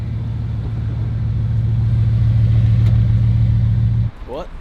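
A Rembrandt-edition Bugatti in handling mode drives along with a loud, steady low engine drone that builds slightly, then drops away abruptly near the end.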